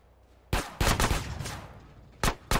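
Gunfire in GTA San Andreas comes as several sharp, loud shots. There is a single report, then a quick cluster of rapid bursts, a pause, and two more shots near the end, with no talking.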